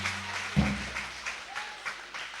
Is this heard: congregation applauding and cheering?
yes